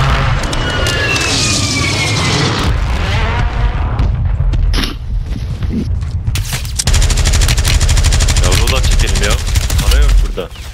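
Call of Duty: Warzone gunfire in Urzikistan, dense bursts of automatic shots and booming single blasts, loud and close with explosions, while players talk over the action.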